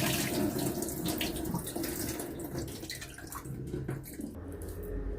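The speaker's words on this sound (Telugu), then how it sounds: "ఇప్పుడు కడిగి మంచిగా 2 మాటలు కడుక్కొని మిక్సీ జార్లో వేసుకోవాలి" Soaked black gram is washed in water, with steady splashing and swishing of water against the lentils and the bowl. It is close and continuous with small drips, and no one speaks.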